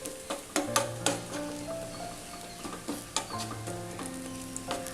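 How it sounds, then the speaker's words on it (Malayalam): Bread upma with cooked vegetables stirred in a pan, a spoon scraping and clinking against the metal in irregular strokes over a light sizzle, close and clear with no talking. "ഇനി ഇതൊന്നും കൂടെ മിക്സ് ചെയ്യാം"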